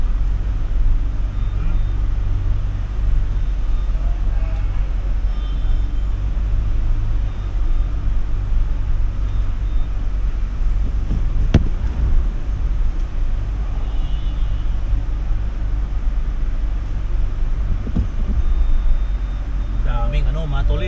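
Steady wash of many cars and heavy vehicles idling and moving through a multi-level parking structure at an airport's Terminal 3, a continuous low rumble with a brief sharp burst near the middle.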